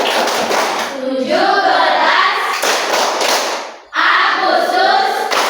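Children at school clap in rhythm during the Tepuk negaraku chant, bursts of patterned clapping mixed with young voices chanting, with brief pauses between rounds.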